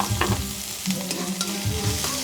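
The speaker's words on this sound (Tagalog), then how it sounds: "Gisa na po tayo. Bawang sibuyas." Garlic and onion sautéing in hot oil in a pan, a loud continuous sizzle and crackle with a stirring utensil scraping now and then, close and alone.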